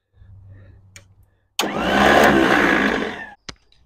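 A cold Ferguson TEF-20 tractor's starter engages and cranks for about two seconds as a loud, steady mechanical grinding whir, then cuts off with a sharp click after a quiet lead-in.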